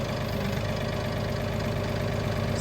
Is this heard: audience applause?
no